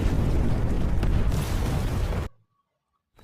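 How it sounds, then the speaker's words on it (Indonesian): An underground cave blown up by an explosion in an action film: a loud, sustained rumbling blast with heavy low-end roar lasting about two seconds, then cutting abruptly to near silence before a faint return of sound. "Rambo meledakkan gua bawah tanahnya"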